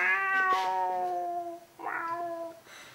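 A cat meows twice, loud and close, the first a long drawn-out cry and the second shorter, with nothing else beneath it.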